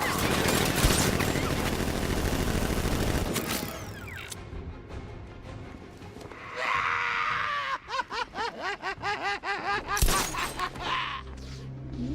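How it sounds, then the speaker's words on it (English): Guards open fire in the video game Batman Arkham Knight: a dense, loud volley of gunfire for the first few seconds, then a run of rapid chattering bursts with cries and other game effects mixed in. "Guard! Open fire! Shoot everything, now!"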